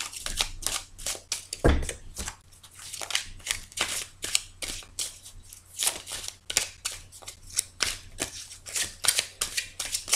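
Fortune-telling cards are shuffled for a reading in rapid, rhythmic riffles and slaps, close and loud, with a heavier thump near the start and a steady run of shuffling strokes after.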